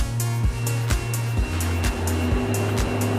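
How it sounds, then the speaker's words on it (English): Machinery moving parcels inside a large cold chain logistics distribution center in Shanghai gives a steady mechanical hum with a regular repeating thump and clatter roughly every half second, continuous and fairly close. "The sound you can hear is machines moving parcels around."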